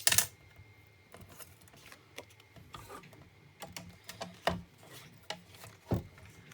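Paper being cut on a craft punch and scoring board to make a divider, heard as close, uneven scraping and snipping with intermittent clicks and rubs, no talking.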